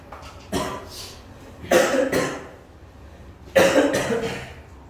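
Three harsh, dry coughs a second or so apart, close and fairly loud, with no talking in between.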